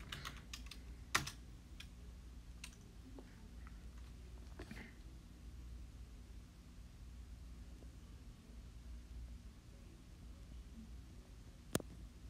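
Keystrokes tap out a product key on a computer keyboard during a Windows ME installation, sparse clicks and a few sharper key hits over a quiet background hiss.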